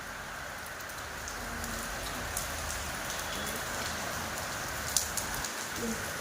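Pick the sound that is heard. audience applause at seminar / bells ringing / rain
rain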